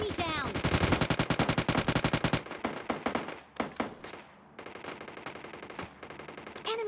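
Rapid automatic gunfire from PUBG Mobile Lite rattles in a dense burst, then breaks into scattered single shots and short volleys, loud and close.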